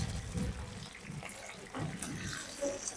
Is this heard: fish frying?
yes